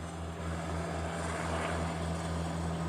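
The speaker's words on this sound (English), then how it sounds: "looks like we're getting a C-17" C-17 military transport aircraft arriving at an airport, a steady low engine drone with a strong pulsing hum filling the whole stretch, no voices.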